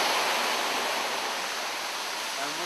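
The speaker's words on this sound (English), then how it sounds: "All this water is going to eventually flow to the Raritan" Floodwater from Hurricane Irene rushes through a creek toward the Raritan, a dense continuous roar of fast-moving water, loud and close, without a break.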